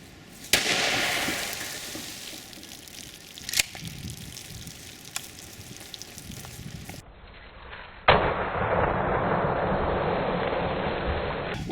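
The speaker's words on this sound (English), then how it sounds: "We fired one of the frangible rounds into, actually a breaching round, into a milk jug" A shotgun fires a breaching round into a milk jug outdoors, giving sharp, loud blasts near the start and again later, with rough, noisy rumbling and scattered clatter in between and after.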